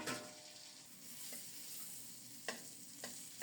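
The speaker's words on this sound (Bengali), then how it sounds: "লাউটা একটু নেড়ে দেই" Bottle gourd simmering in a pan keeps up a soft, steady sizzle while a spoon stirs it, with a few light scrapes and taps against the metal and no voices.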